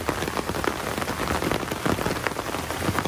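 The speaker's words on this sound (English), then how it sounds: "We didn't know it was gonna rain today." Rain falling outdoors in a sudden shower, a dense continuous patter of drops hitting surfaces close by, steady and fairly loud with no voices.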